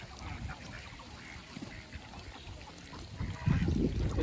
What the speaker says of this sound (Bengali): যারা হাঁস দেখতে পাচ্ছেন এরা হচ্ছে ডিমের হাঁস